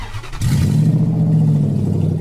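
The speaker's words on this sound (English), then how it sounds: "This is what it sounds like. Just too loud. When a catalytic converter is stolen." A car with its catalytic converter stolen roars to life after a brief quiet moment, a loud, raw, rumbling low engine drone holding steady close by.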